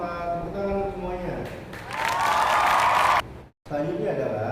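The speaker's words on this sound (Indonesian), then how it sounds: "Tepuk tangan untuk semuanya." In an online microteaching lesson, a teacher's voice gives way to a short burst of applause and cheering for all the groups, lasting just over a second before a brief silence and more talking.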